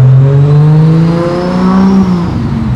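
A high-powered, expensive car engine revs loudly nearby at night beside a canal, a strong throaty roar whose pitch rises and dips before easing off, with no talking over it.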